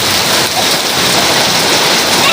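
Heavy rain at a Lonavala resort pouring steadily, a loud dense hiss of drops hitting surfaces throughout, with no talking.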